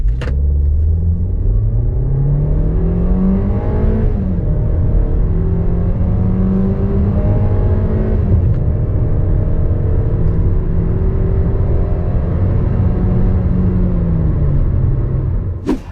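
Hyundai Tucson 2020 SUV accelerating hard from 0 to 100, its engine note climbing steadily through the gears with brief shift dips, a loud continuous rumble close to the cabin with no talking.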